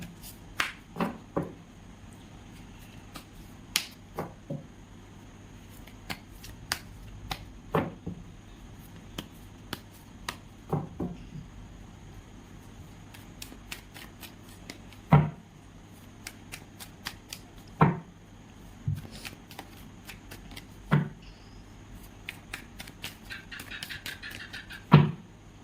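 Tarot cards being shuffled and handled during a reading, giving sharp riffling snaps and soft flicks at irregular intervals over about twenty-five seconds, close and fairly quiet with no speech.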